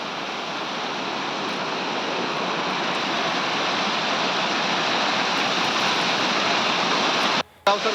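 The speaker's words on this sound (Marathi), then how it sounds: "मुसळधार पाऊस देखील या ठिकाणी सुरू झालेला आहे" Heavy monsoon rain pours down in Murud, Raigad, while floodwater rushes past in a constant, dense roar, loud and unbroken, with a brief dropout near the end.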